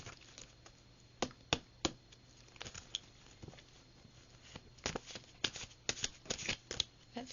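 A deck of tarot cards shuffled by hand, with a run of sharp, crisp riffling snaps and flutters that come in irregular bursts and close up, with no talking.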